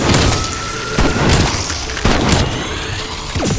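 Heavy booming blasts from a frag grenade exploding in the video game Call of Duty Cold War, three loud thuds about a second apart over constant gunfire and crashing debris.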